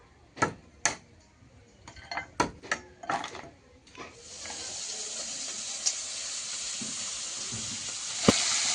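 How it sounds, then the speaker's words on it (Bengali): Tangra fish fry in a wok with oil, a rising, continuous hiss and sizzle that settles into a steady crackle after a few sharp knocks and clatters of handling at the start, with no voices over it. "একটা কড়াইতে মাছ ভাজা বসিয়ে দিয়েছি"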